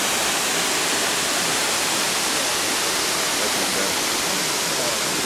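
Kintampo Waterfalls in Ghana roaring as a dense, steady rush of falling water, loud and close, with no break or change across the whole stretch.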